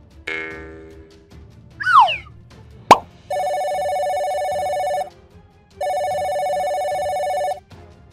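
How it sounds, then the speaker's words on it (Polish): A cartoon telephone rings in two long, loud electronic bursts. Before them come a springy boing, a rising whistle-like swoop and a sharp pop, with no voices. "Nagle zabawę przerwał dźwięk telefonu Zenka."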